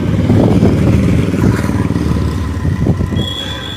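A construction lift grinds steadily on a building site where painters apply primer and plasterers work, a loud continuous mechanical hum with a motor-like drone that eases slightly toward the end.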